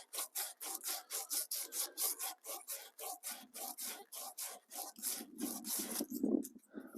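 A hand file rasps a burr off the metal front axle of a John Deere D140 lawn tractor, about two dozen steady, evenly paced back-and-forth strokes, close and clear with no voices.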